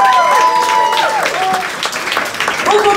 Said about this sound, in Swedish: En jävla applåd åt dem.